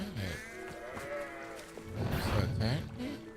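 Sheep bleating in the video game Hogwarts Legacy, a couple of strained, wavering bleats rising over game effects, with someone talking throughout.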